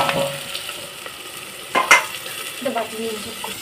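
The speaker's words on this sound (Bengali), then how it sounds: "এখানে সব কিছু একটু হালকা করে ভাজতে হবে" Pointed gourd, potato and tomato fry and get stirred in a pan, giving a soft sizzle broken by a few sharp scraping and clinking stirs, close and moderately quiet, with no talking.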